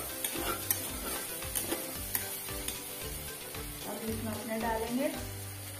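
Elephant yam sabzi sizzles quietly in a pan, with a spoon scraping in a steady back-and-forth rhythm; faint voices come through in the background.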